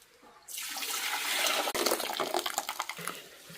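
Water gushes from a spout into a paint bucket, starting abruptly and building into a loud, splashy pour with a brief break midway before continuing in uneven surges.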